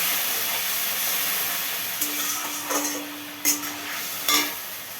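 Masala for a doi katla (rohu in yogurt) fish curry sautés with added water, a steady soft hiss and bubbling sizzle broken by a few sharp scraping stirs near the end, close and moderately loud with no talk.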